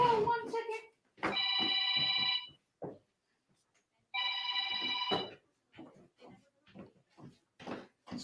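A mobile phone ringtone rings in two loud bursts with a gap between them, with people talking around the rings.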